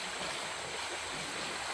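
A shallow river with a rocky bed and a sandy stretch flows over stones in a faint, steady hiss of rushing water, with no voices over it.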